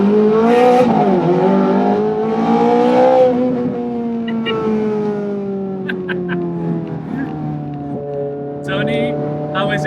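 Ferrari F430 Scuderia fitted with a Capristo exhaust, valves open, revving loud and close, its engine note climbing and falling in several blips before settling into a lower idle.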